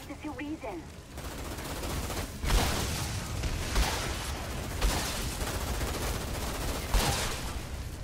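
Gunfire in the video game Outriders, a steady stream of repeated shots with heavier booming reports every second or so, under continuous loud combat noise.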